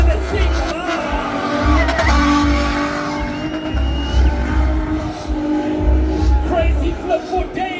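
A BMW E30 with a six-cylinder engine, in Red Bull livery, at a BMW M Fest car show, revving hard with tires squealing in repeated bursts. The loud engine rumbles over a crowd, with people talking nearby.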